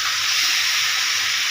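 Water poured into a pan of crab masala, a loud continuous hissing sizzle with steam rising from the hot pan and no talking.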